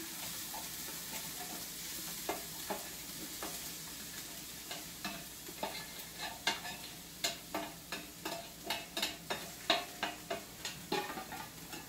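Sautéed hamburger, onions and garlic go into a pan for chili, bringing a soft sizzle with a quickening series of sharp stirring clicks and scrapes, fairly quiet and close.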